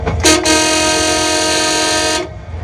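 A Ruislip Lido Railway train sounds a long, loud steady horn blast of about two seconds with a short toot just before it, warning of its approach to a level crossing.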